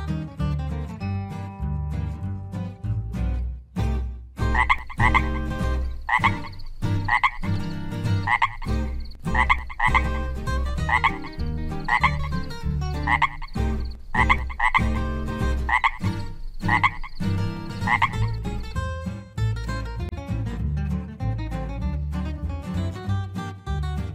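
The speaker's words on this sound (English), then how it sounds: "Frog," A frog croaks in a steady, repeating rhythm, loud and close for the whole stretch, with layered tonal pulses and no voices.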